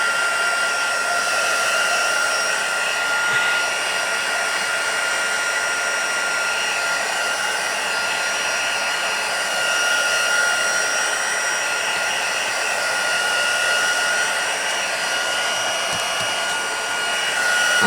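A hair dryer blows close by onto wet paint on a pencil-and-paint craft piece, giving a loud, steady whirring roar that holds unbroken for the whole stretch, with no talking.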